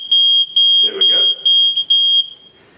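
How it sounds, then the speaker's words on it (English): A water leak detector alarm from a reverse osmosis water system beeps loudly and shrilly in five rapid pulses up close, with a voice briefly speaking over it. "As soon as the water connects these 3 contact points at the bottom of the system, an alarm goes off, audibly telling you that something is wrong"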